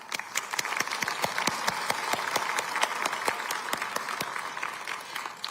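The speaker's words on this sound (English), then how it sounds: "Let's give them a round of applause." A modest crowd claps at a city State of the City address, distinct individual claps standing out in a steady, moderately close round of applause that tapers slightly at the end.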